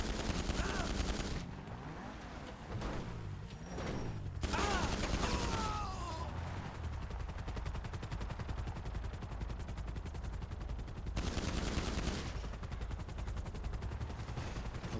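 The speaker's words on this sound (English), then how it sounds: "other person firing at me." Gunfire in the video game Satisfactory, dense rapid automatic bursts with heavier booming shots, continuous and loud throughout, with faint voice sounds mixed in.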